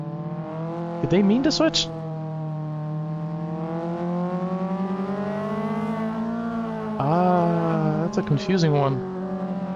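Race cars start a touge run in Assetto Corsa, engines droning and rising in pitch as they accelerate, with brief squealing bursts near the start and end, while a commentator talks over them.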